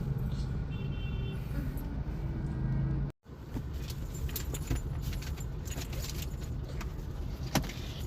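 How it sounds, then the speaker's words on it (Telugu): Heavy road traffic in the city heard from inside a car, a steady low hum of engines with a short cut-out, then scattered clicks and jingles over the ongoing drone. "Full traffic."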